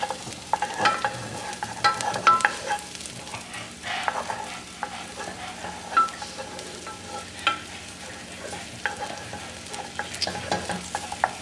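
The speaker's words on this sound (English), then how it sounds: "But you just fry up the garlic." Garlic frying in a pot sizzles steadily while a spoon stirs it, with repeated scraping and clinking strokes against the pot at close range and no talking.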